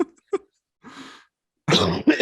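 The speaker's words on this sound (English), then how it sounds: "We all just coughed at the same time." Several people cough at once, with separate short coughs and throat clearing, then a louder burst of overlapping coughs close by near the end.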